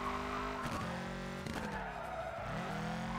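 A drift car with a weak engine in the Overdrift Festival racing game: the engine drones and rises through several revs while the tyres skid and squeal, loud and close throughout.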